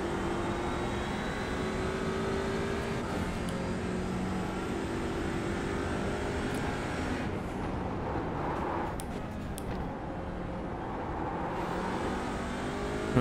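A race car engine in iRacing at Mount Panorama drones steadily and loudly throughout, holding a high whine near the limiter with brief dips as the driver lifts and brakes.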